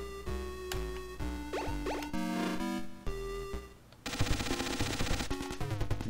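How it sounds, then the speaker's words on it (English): SMG gunfire in the Metal Gear video game comes as rapid, noisy retro bursts cutting in partway through, layered over loud chiptune background music. "I'll try the SMG."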